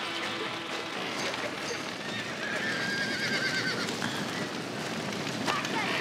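Horses whinny and their hooves clatter in Red Dead Redemption while a barn burns, with the fire crackling in a steady, dense wash. Voices are faintly mixed in.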